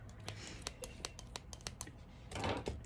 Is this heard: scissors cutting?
yes